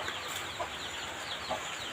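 Chickens cluck faintly in a rural farmyard during rainy weather, with soft intermittent calls over a steady background hiss.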